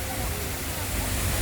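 Steady rushing water at a tourist spot in Hong Kong, a continuous broadband wash filling the scene from start to finish, with a crowd murmuring faintly beneath it.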